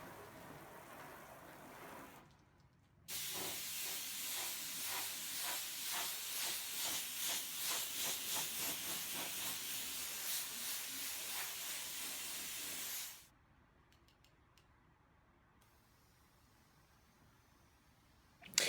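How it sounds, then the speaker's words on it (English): Panel wipe solvent is sprayed onto a car panel in a long steady hiss with a pulsing rhythm, lasting about ten seconds between quiet stretches. "We're just going to simply spray it on."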